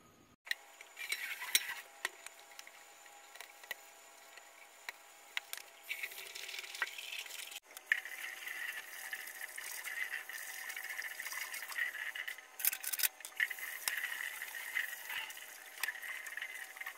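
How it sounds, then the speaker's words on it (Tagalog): Dishes being washed under running water at night, a steady wash of flowing water with clinks of plates and cutlery, fairly close and with no talk. "katatapos ko lang maghugas ng pinggan"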